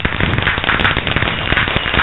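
Twinkle firework stars bursting in Minecraft, a dense continuous crackle of many small pops filling the whole stretch at steady loudness, with a few sharper snaps standing out.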